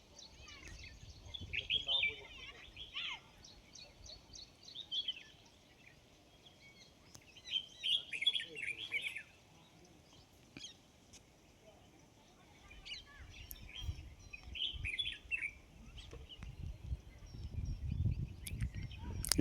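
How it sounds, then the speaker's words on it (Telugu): Birds chirp and tweet in short bursts among village crop fields on an evening outing, fairly near, with quiet gaps and low rumbling outdoor noise between the calls. "ఇక్కడ ఒక పక్షి ఉంది"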